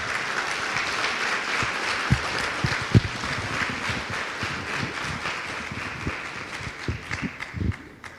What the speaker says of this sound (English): please stand to your feet and help me welcome Mr. Simon Bartley with a rousing round of applause.